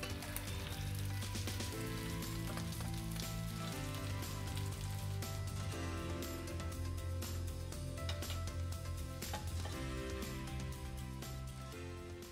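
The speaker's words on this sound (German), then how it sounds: "Jetzt tue ich einfach die Bällchen in der Suppe und brate die zweite Ladung" Meatballs fry in a pan, a steady close crackling sizzle that runs unbroken throughout with no talking.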